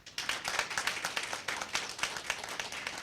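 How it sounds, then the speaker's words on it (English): Audience applause for both teams after an inter-secondary school debate encounter in the Caribbean, a modest group clapping with distinct quick claps, fairly quiet and alone. "Another round of applause for both our teams."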